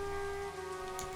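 Steady rain falling in the Higurashi: Yoigoshi video game, a soft continuous patter beneath a sustained low tone, with no speech.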